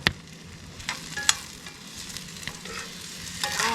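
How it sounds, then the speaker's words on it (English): A ribeye steak sizzles in a pan over a camp-style setup, a steady close frying hiss with scattered pops and crackles running throughout. "Hear that sizzle?"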